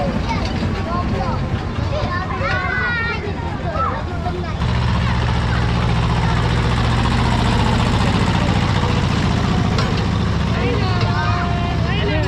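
A steady low tractor engine idles nearby on a farm, rumbling evenly throughout while children and adults chatter over it.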